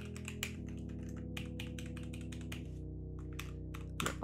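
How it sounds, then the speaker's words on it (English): Quick bursts of keystrokes on a computer keyboard typing a word, crisp close clicks in an irregular rhythm over a faint steady hum. "And I'm going to type in majestic."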